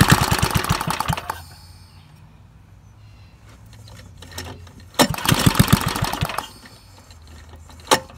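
A rebuilt Bolens tractor engine is pull-started on choke, catching and running roughly for about a second, then falling quiet before a second burst of running and a final sharp pop.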